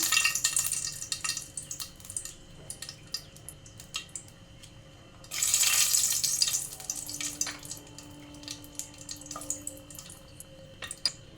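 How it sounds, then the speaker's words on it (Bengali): Two dry red chillies hit hot ghee and oil, setting off a sudden bright burst of sizzling that settles into steady crackling and popping spatters over a low background hiss. "ঘি আর তেলটা গরম হয়ে গেছে, এবার আমি ফোড়নের জন্য দিয়ে দেবো 2টো শুকনো লঙ্কা"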